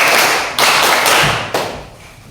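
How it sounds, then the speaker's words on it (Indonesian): A classroom of students claps together in rhythmic unison, four bursts of group clapping in a quick patterned sequence, fairly close and loud. "Tepuk 4 kali"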